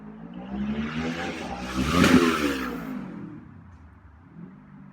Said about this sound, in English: motorcycle or car. It's pretty loud